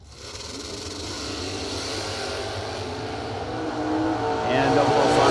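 Drag race between a 1995 Beretta and a 1972 Nova hot rod at a drag strip, engines roaring and building louder as the cars launch, heard under an announcer's continuous commentary.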